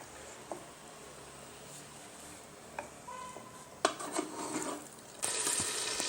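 Rice stirred with oil in a pot for Hyderabadi chicken dum biryani, with soft scrapes and a faint sizzle, then louder stirring and frying noise building toward the end, with no one talking.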